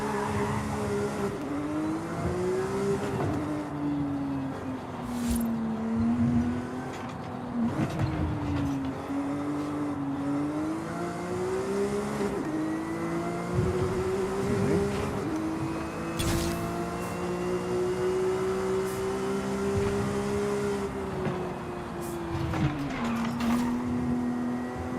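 A Porsche GT3 RS accelerating hard up through the gears on a race track, loud sustained engine howl rising and dipping at each shift, with faint tire noise and no talking.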